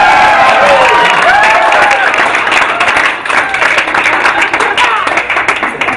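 Wedding guests break into sustained, loud applause with cheering, a dense wash of clapping that dips briefly partway through, with voices audible in the crowd.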